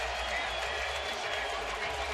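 Steady roar of a loud baseball crowd at O.co Coliseum in Oakland during the bottom of the ninth inning of a scoreless A's game, a continuous dense wash of noise with no single voice standing out.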